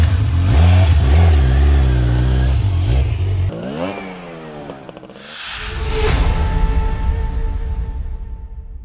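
A 2022 Kawasaki Z900 four-cylinder 948 cc motorcycle revs loudly up close, then pulls away with rising engine pitch through the gears, the sound dipping briefly before swelling again as it rides off.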